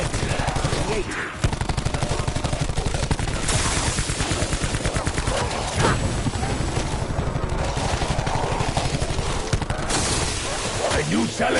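Sustained rapid automatic gunfire in Call of Duty Black Ops 4 Zombies, loud and continuous with barely a pause, layered over a thick wash of game noise.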